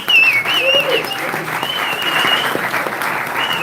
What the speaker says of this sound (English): So can we give these boxers a round of applause?